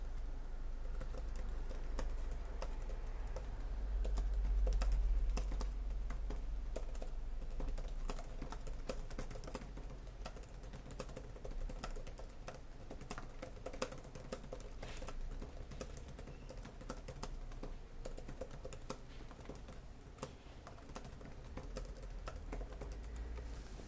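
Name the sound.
typing on laptop keyboard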